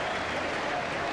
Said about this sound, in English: A nice round of applause here as he heads towards the Swedish locker room for repairs.